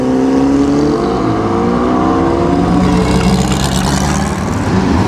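A Maserati engine revs at the Mille Miglia classic road race, a loud, sustained, rising mechanical drone with climbing harmonics that stays close and steady throughout, no voices.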